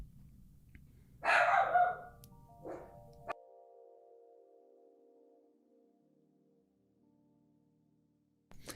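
Dogs break into a short burst of excited barking, loud and close, followed by a single sharp yelp, then a long ringing tone fades out into near silence before a brief thump at the end.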